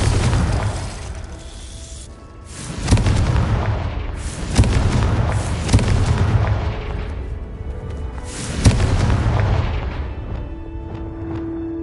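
Confringo fire-explosion spells cast in the Hogwarts Legacy video game, producing a series of loud, heavy booming blasts that each roll off into rumbling decay, with a few sharper crackling impacts between them.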